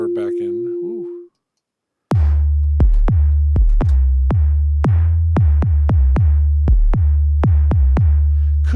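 A short tone, a brief silence, then a rapid run of punchy Logic Pro Drum Synth hits with added reverb tail, loud and close.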